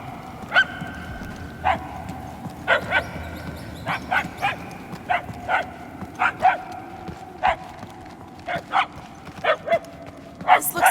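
Cosmo's puppies in the Guardians of the Galaxy video game bark and yip in sharp, uneven bursts, about a dozen short calls over a low game ambience, with some faint voices in the background.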